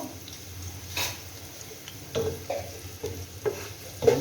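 Raw onion with a pinch of salt frying in a pan, giving a soft steady sizzle broken by several stirring scrapes and taps.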